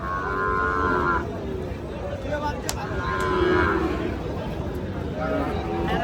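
Sahiwal cattle at a livestock market give several long lowing moos, one after another, close and loud over a constant murmur of crowd noise.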